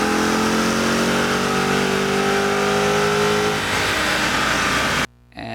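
A car engine fitted with new headers revs hard on a dyno, a loud sustained roar with rising tones that winds down before cutting off abruptly.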